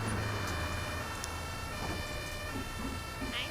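An ambulance siren wails in the Omsi 2 bus simulator amid Berlin city traffic, sounding distant and fairly faint over steady road noise.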